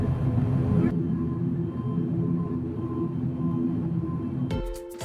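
A small Amakusa Airlines plane taxis into its stand at Fukuoka Airport, heard from inside the cabin as a steady engine drone with a rumbling hum that cuts off abruptly near the end.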